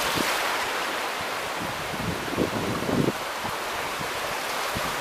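Steady rush of ocean surf near the Burj Al Arab with wind buffeting the microphone, a couple of waves swelling slightly louder midway.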